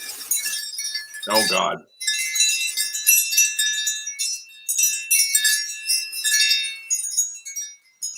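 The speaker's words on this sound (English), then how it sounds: "It is Wind Chimes by the Baum Pierce Studio from 1994, and it is Adam and Eve." Baum Pierce Studio wind chimes from 1994, the Adam and Eve model, ring out in bright, sustained metallic tinkles that shimmer across most of the stretch, interrupted once by a brief spoken exclamation.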